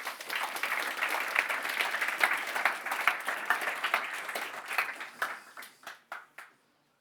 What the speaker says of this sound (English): let's give Matthieu a warm welcome with a round of applause.